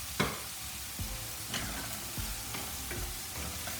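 Green beans and beef cooking in a pan, a steady low sizzle with several sharp clinks and scrapes of stirring spaced across the stretch, no voices.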